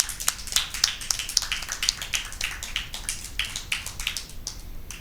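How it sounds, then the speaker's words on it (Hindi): Scattered, light hand claps from a crowd of schoolchildren at a Christmas Bible quiz, irregular and fairly faint, with no talking over them. "जोरदार तालियां बजाएंगे।"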